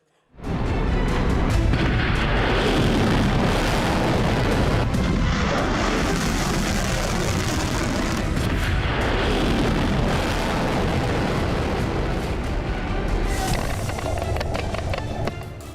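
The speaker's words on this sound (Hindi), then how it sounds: "समंदर में जोरदार विस्फोट हुआ और चारों ओर कंपन महसूस किया गया।" A massive, sustained explosive roar at sea fills the air, rumbling and crackling loudly for many seconds before fading abruptly.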